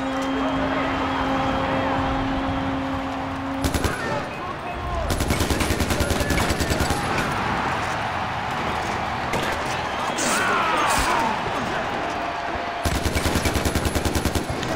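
Bursts of automatic AK rifle fire in the video game Far Cry 4, loud rapid volleys in several stretches separated by quieter game ambience, with a voice talking in the background.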